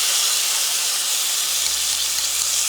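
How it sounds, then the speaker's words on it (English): Blitzed onions hitting a hot pan for a turkey tikka masala, a loud, dense, steady hiss of sizzling oil and steam heard up close, with no voices over it. "I'm just going to pop the onions in there."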